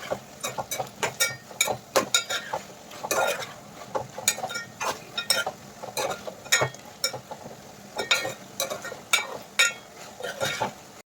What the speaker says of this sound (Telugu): హైలో పెట్టి చికెన్ ఒక 10 to 15 మినిట్స్ బాగా వేగేద్దాం.